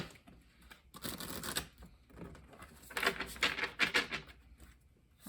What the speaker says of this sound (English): Do one more little shuffle.